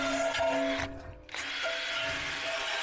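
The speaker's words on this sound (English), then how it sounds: "I like this particular one because it works with the drill really well" A power drill spins a wire wheel brush against rusty metal garden art, grinding steadily with a loud, harsh whir that briefly cuts out near the middle before starting up again.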